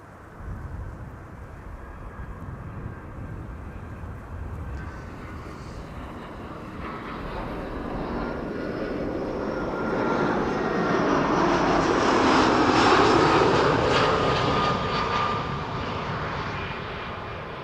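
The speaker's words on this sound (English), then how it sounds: "that's Transavia preceding the Saudia Dreamliner" A Transavia airliner lands at Amsterdam Schiphol Airport, its jet roar building steadily from a distant rumble to a loud, broad close pass, then easing slightly, with no talk.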